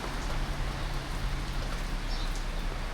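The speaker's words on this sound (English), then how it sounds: "the rain is definitely starting to come down" Steady rain falls at a bus terminal in Pogradec, Albania, a continuous even hiss of drops on surfaces throughout, with no voices.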